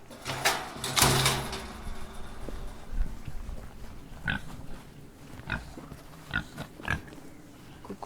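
On a farm with newly arrived piglets, pigs grunt and snuffle in scattered short bursts over a steady outdoor background, with a louder scuffle near the start.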